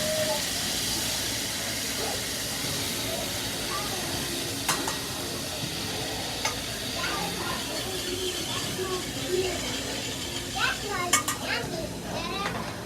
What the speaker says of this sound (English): Literally, we're frying the tomato sauce.